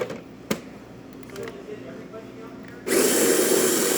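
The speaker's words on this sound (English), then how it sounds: "As you can hear, the grinder is working" A Saeco espresso machine's built-in coffee grinder whirs loudly, starting abruptly after a few seconds of quiet room noise with a brief click, then running steadily to the end.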